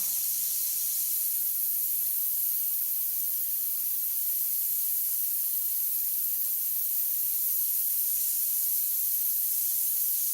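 An airbrush sprays Createx paint onto synthetic paper, giving a steady, continuous airy hiss that holds at an even level from start to finish with no talking.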